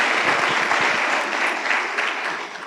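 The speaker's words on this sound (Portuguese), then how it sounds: "Então você pode aplaudir o Senhor louvando a Ele." A church congregation applauds, a dense, steady wash of many hands clapping together, close and loud for a few seconds.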